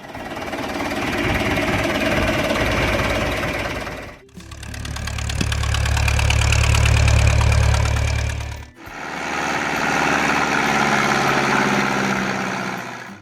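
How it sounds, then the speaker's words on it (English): A John Deere 3020 tractor engine runs steadily and loud in three long stretches, each with a rough, knocking diesel chug, the middle one deeper and heavier, with no talking. "John Deere 3020."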